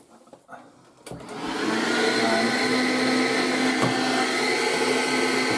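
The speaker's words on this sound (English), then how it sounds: "well, I get my hoover." A hoover vacuum cleaner running on a model railway track starts up after a few faint knocks, then whines steadily and loudly at close range for the rest of the clip.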